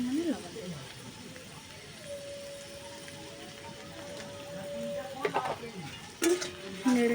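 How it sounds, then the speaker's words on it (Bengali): Vetkul leaf paste stirred and fried in a pan over a low flame, with soft intermittent sizzling and scraping stir strokes under a faint steady tone, growing louder toward the end. "নেড়ে নেড়ে ভেজে দিই।"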